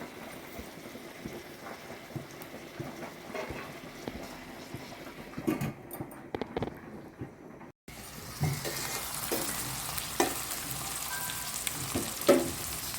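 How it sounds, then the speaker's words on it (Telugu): Tomatoes added to ginger-garlic paste in a pan for prawn curry fry with a steady, close sizzle throughout, with a brief dip partway before the frying noise resumes, slightly brighter. No one talks. "టమాటా వేసేస్తున్నాను. ఇది కొంచెం మగ్గాలి టమాటా బాగా."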